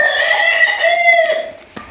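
Hens in a village coop give drawn-out, tonal clucking calls, close and steady through most of the stretch before fading near the end, with one brief sharp noise just after.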